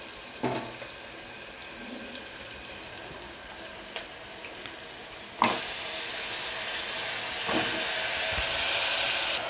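Potatoes and peas frying in a pan for egg biryani, a soft continuous sizzle with a few sharp clinks of stirring, the hiss swelling louder near the end.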